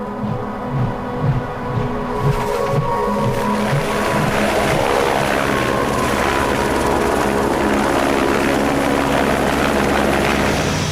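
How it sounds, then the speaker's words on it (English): A helicopter's rotor thumps in a fast rhythmic chop at first, then blends into a loud, steady engine roar that fills the scene. "the only quick way in for me is by helicopter"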